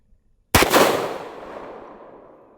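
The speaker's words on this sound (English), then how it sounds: "shooting a hard cast this large at a steel target this close is probably a good idea" A single loud, sharp blast from a 500 S&W revolver firing hard-cast bullets at a close steel target, cracking sharply and then trailing off in a long, fading echo.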